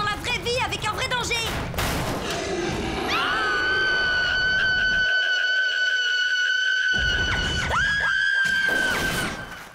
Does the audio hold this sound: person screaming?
yes